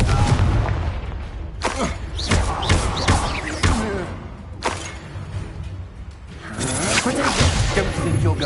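Confringo fire-spell explosions during a Hogwarts Legacy duel, several loud thuds and booming blasts landing in quick succession amid combat noise, with a voice talking over the fighting.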